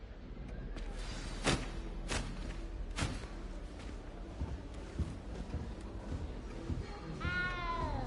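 A cat in a video game meows several times at steady intervals over low ambient game sound, closing with a longer, drawn-out falling meow.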